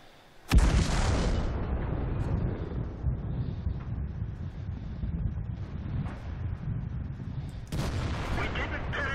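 Heavy tank cannon fire in World of Tanks, a T28 Prototype battle: a sudden booming shot followed by a long rumbling roar, then a second blast near the end.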